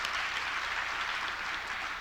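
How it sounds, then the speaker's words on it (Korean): A church congregation claps together in thanks during a Friday prayer service, a dense, even wash of applause that runs unbroken and fairly loud for two seconds, with no voices over it. "놀라우신 하나님 감사의 박수를 드리겠습니다."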